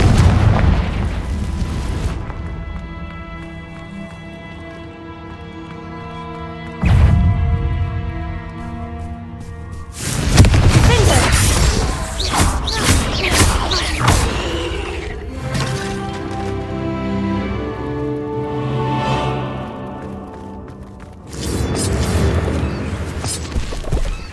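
Confringo spell explosions in the Hogwarts Legacy video game: loud booming blasts at intervals, each a sudden burst that rolls into crackling rumble and mechanical clatter, set over sustained musical tones.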